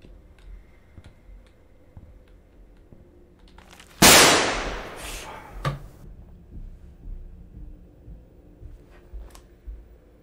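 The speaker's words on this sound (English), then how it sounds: "Not only did the gunshot just scare the shit out of me" A single sudden gunshot goes off in a horror video game, a loud sharp crack that rings out for about two seconds over a quiet, faintly ticking background, followed by softer clicks.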